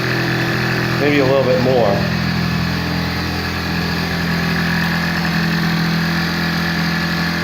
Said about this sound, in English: if you let it sit there and idle for a little bit